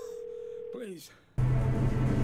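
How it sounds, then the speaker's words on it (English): A phone in the game Twelve Minutes dials out: a steady tone, a short burst of shifting tones as the number is entered, then a connected line with a low hum and hiss. "take out his phone and call Bumblebee from his recent text to get her number"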